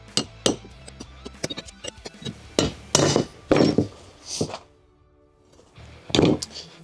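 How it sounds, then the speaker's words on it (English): Sharp metallic hammer strikes on a center punch marking holes in metal plate ring out in irregular bursts, some single taps, some quick pairs, close by, with a brief pause near the end. "we'll start center punching these now"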